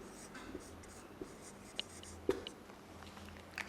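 Pen writing on paper in a real estate office, a few soft scratchy strokes with small taps, faint and close, with no talking.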